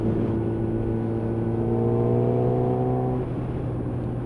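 Motorcycle engine droning steadily while riding, a loud close rumble with a sustained even pitch that drops slightly near the end, no voices.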